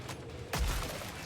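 A single heavy shotgun blast in a video game, a sharp booming shot about midway that rings out and decays over a busy game background.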